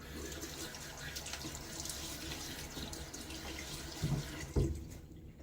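A bathroom tap runs in a steady stream into a sink while someone wets their face before shaving, with a couple of soft splashes and knocks near the end and no talking.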